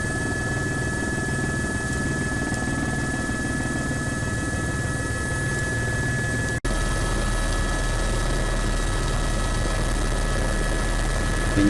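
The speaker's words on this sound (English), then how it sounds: "There's a second helicopter in our group. You can just see him there, gliding ahead of us." A helicopter flying toward a glacier base camp in Alaska gives a loud, steady rotor and engine drone with a constant high whine, unbroken throughout and with no talk.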